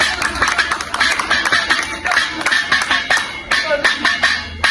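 Audience clapping for a singer at a Punjabi stage show, with dense crowd applause running steadily throughout the clip, rising and falling in bursts with a few sharper claps near the end.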